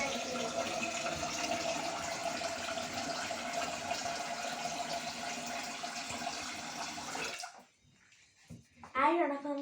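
Water poured steadily into a cooking pot in a home kitchen, a continuous splashing rush lasting several seconds before cutting off, followed by brief talk.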